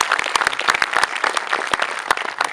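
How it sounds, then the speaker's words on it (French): Audience applause for two supervisors at a sports club's season presentation, a steady dense burst of many hands clapping loudly and close, lasting throughout with no talking. "qu'on peut applaudir"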